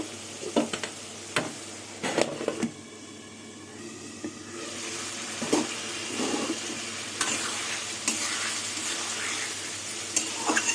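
Pointed gourd and potatoes frying in a pan with spices, a soft sizzle running throughout, broken by sharp clinks and scrapes of a spatula against the pan during stirring.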